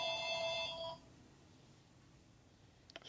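A telephone rings in a workshop during a carburetor rebuild, a loud electronic warble lasting about a second before cutting off, followed by quiet and a few small clicks.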